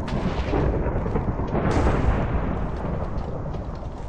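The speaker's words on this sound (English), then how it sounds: "we got the storm that we were expecting" Thunderstorm in Minecraft: continuous loud rumbling thunder with a heavier burst around the middle, steady rolling roar and no voices.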